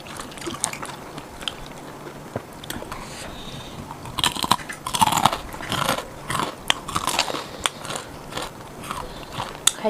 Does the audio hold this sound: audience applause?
no